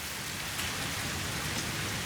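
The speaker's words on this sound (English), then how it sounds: "The rain's picking up." Steady rain falls in the video game Satisfactory, a dense, even hiss of drops on surfaces that continues without a break and with no voices over it.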